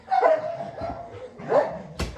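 A dog barks and yips close by, a few short whiny barks spaced apart, ending with a sharp knock.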